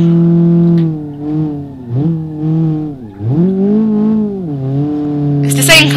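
A Bitron B2 Trackday Edition car in BeamNG Drive on the Top Gear test track, its engine note rising and falling through gear changes as it is driven, with a brief tyre or barrier scuff near the end.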